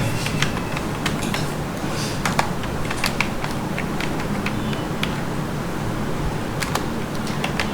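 Rapid typing on a computer keyboard while working in Excel, a steady stream of close, clicky keystrokes over a constant low background hum, with no talking.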